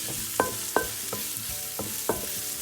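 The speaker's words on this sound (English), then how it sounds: "So we're going to sweat these down, like I said, medium-high heat, just until they start to get a little bit sweet and translucent" Vegetables sweat in peanut oil over medium-high heat for a char siu bao filling, with a steady low sizzle broken by several sharp clinks and scrapes of a utensil stirring the pan.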